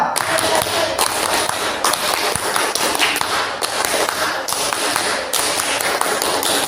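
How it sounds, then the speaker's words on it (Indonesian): A group of school staff and students performs the rhythmic Indonesian scout clap (tepuk pramuka), a loud, close pattern of sharp, synchronized claps in repeating bursts with brief pauses, without speech. "Kita akan coba 2 kali tepuk pramuka."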